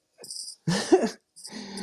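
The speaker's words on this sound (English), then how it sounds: "my dog just went crazy" A dog barking and growling in short agitated bursts, three separate outbursts with pauses between, fairly close and loud, no talk over it.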